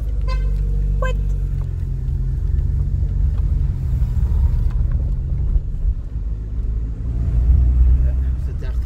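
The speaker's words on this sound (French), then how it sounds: "Il y a une voiture derrière." A car moving close behind on a road, its deep, steady engine rumble and tire noise heard up close and loud, swelling slightly near the end.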